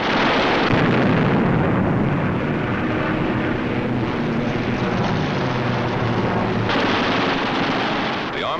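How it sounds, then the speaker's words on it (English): A WWII fighter aircraft fires its eight wing machine guns, a loud, continuous roar of rapid gunfire blended with engine drone that barely lets up across the whole stretch, with no voices heard. "With the touch of the finger on the stick, a camera and 8 machine guns are put into action."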